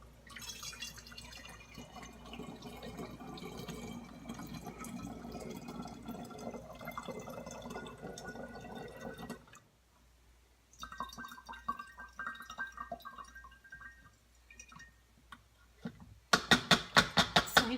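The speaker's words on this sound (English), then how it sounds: "You just drain all that in there and strain it out, and you have your homemade apple cider vinegar." Homemade apple cider vinegar is strained into a clean recycled glass mustard jar: a steady, close pour of trickling liquid runs for several seconds, pauses briefly, then resumes with drips and sharper glassy clinks at the end.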